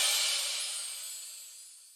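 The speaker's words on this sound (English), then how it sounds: "I've added a crash, which is the magic one from Troy Vicious's kit" A crash cymbal sample from Troy Vicious's drum kit, a bright hissing wash with no low end that slowly fades out over two seconds, quiet and alone.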